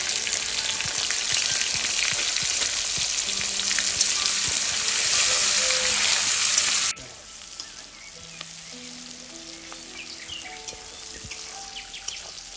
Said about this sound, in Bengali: আমি ফোড়নে দিলাম তেজপাতা, গোটা গরম মশলা আর শুকনো লঙ্কা। তার সাথে দিলাম 1 বাটি পেঁয়াজ।